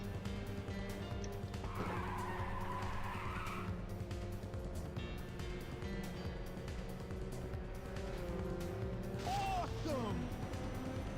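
Racing cars in Ridge Racer 2 on the PlayStation Portable drone steadily with engine hum, tire squeals and skids rising over the mix, a continuous mid-level game soundtrack with a voice talking over it.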